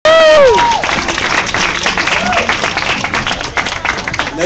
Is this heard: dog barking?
no